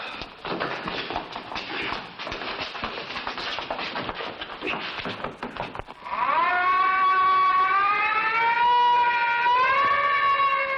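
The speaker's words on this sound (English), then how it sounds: "That's the alarm for a prison break." A loud wailing prison break alarm siren rises after several seconds of rough clattering noise, then holds steady, close and continuous.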